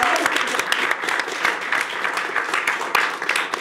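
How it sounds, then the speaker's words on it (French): Studio audience applause on a French talk show, a dense, steady wash of many hands clapping that carries evenly through the whole stretch with no voices over it. "On peut l'applaudir."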